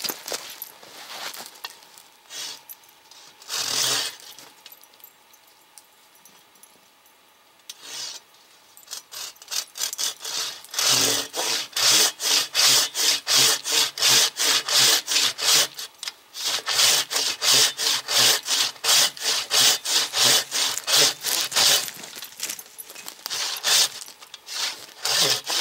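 A Silky Katanaboy 500 folding saw cuts through a dead oak branch, first with a few scattered scraping strokes, then a long run of steady, loud, rhythmic back-and-forth sawing close by.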